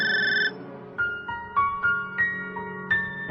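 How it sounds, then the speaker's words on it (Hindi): A telephone rings late at night with a long electronic tone followed by a repeating series of short melodic beeps, clear and alone with no talk. "फोन काफी देर तक बजता रहा।"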